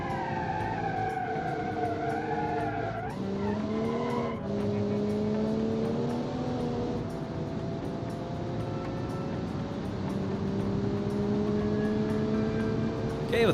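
Aston Martin GT race car lapping a track in BeamNG Drive, engine note rising and falling through gear changes with a sustained high whine and faint tire squeal, continuous and close.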